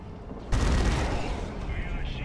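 Gunfire and sniper shots in the Dawn of War 2 strategy game, a sharp loud burst that breaks in after a quieter stretch, then sustained crackling fire and a faint high whine continuing to the end.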